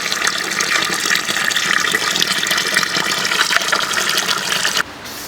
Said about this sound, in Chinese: 加水，水要一次性加到位，就加满了